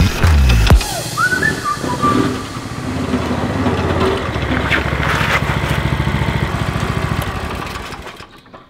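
Homemade trike with a petrol engine on a test drive, its small motor buzzing and revving steadily close by after a brief louder knock at the start, then fading out.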